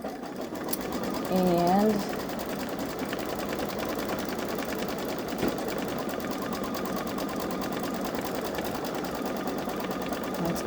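Babylock Solaris 3 sewing machine running steadily through a green swirly satin stitch line, a continuous close mechanical whir throughout, with a brief voice near the start.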